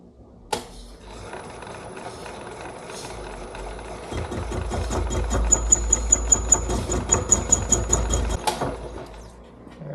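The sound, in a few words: machine making final cut on bell bushing repair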